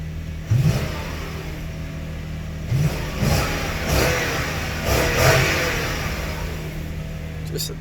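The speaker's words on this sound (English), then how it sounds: "Let's hear a little bit of the V8, just a little bit." A V8 car engine idles with a deep rumble and revs in several short bursts, while people talk over it.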